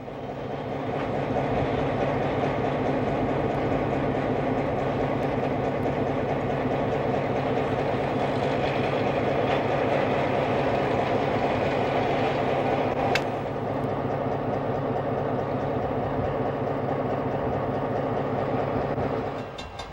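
A freight train rolls through a rail yard on the former Grand River Railway near Kitchener, giving a continuous heavy rumble with faint wheel clatter and one sharp metallic ring partway through; no one speaks.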